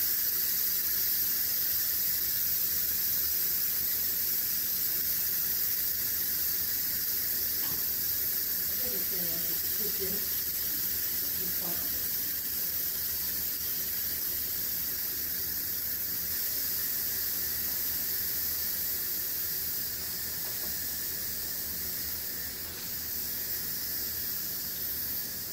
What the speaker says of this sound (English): I'm letting it steam out so we can unlock it